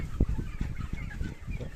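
Sonali chickens on a poultry farm give a close series of soft, rapid clucks, one louder cluck standing out at the start.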